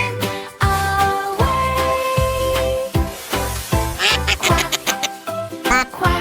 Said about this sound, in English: Quack, quack.